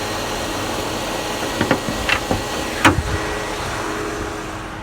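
A 2006 Chrysler Sebring with a 2.7 V6 idles steadily under the open hood, a constant close engine hum broken by a few short sharp clicks and knocks near the middle.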